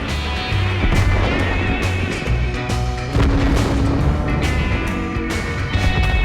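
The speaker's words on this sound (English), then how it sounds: "Allied fire demolishes the revealed enemies." Heavy tank guns boom across an online armored battle in World of Tanks. Several loud blasts land at irregular intervals over a rumbling engine and the din of combat.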